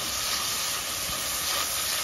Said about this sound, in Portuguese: Vou deixar esse alho dar uma fritadinha.